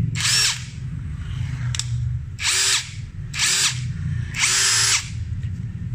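A Nagawa NID213K impact driver whirs in four short close bursts, whining loudly over a low steady background hum.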